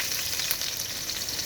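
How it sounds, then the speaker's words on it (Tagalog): Garlic and onion sauté in a pan, giving a steady, bright close-up sizzle with light stirring and no voices. "Igisa lang muna natin yung bawang sibuyas"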